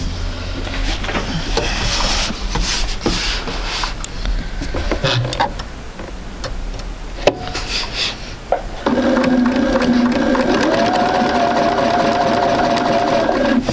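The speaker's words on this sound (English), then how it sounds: "So we're going to sew from that little notch right here all the way down." A sewing machine stitches quilt block fabric, first with scraping and handling of the cloth, then a steady close motor whir with rapid needle chatter running continuously to the end.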